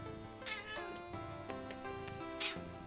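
A cat meows in the video game Eastward: a few short, quiet meows in quick succession, with faint game music behind them.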